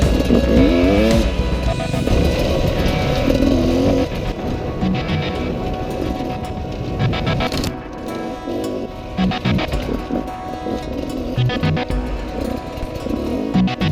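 An enduro motorcycle with a hybrid rear tyre and fat front tyre rides soft sand tracks, its engine droning and rising and falling steadily near the rider throughout, with no talk.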